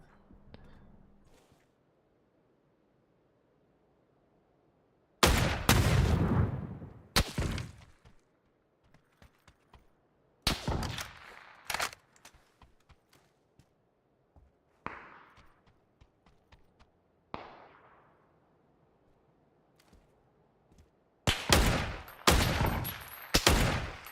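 Bursts of rapid P90 gunfire in PUBG on the Erangel map erupt in several separate volleys, loud and sharp, separated by quiet gaps with faint background noise.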